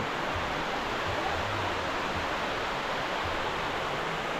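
The Jermuk waterfall in Armenia, heard from a rock in the middle of the falls: a loud, steady, broadband roar of rushing water that stays constant from start to finish with no voices over it.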